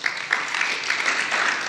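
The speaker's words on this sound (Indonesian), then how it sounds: "Tepuk tangan untuk Kesia." Applause at a youth church service, a dense, even patter of many hands clapping close by for nearly two seconds with no voices over it.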